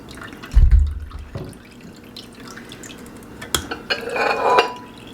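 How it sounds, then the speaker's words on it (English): Apple juice strains from the pulp as a strainer is moved back and forth, with close drips and trickles of liquid, a few knocks against a container, and no talk. "I kind of move the strainer back and forth, you know, to help the juice to come out or to extract from the pulps"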